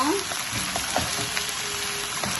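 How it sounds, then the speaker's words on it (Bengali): Onion stalks fry in a pan for a vegetable dish with broccoli and green banana, a loud, continuous hissing sizzle with soft scraping as they are stirred. "আমার পেঁয়াজ কলিটা আমি নেড়ে দিচ্ছি"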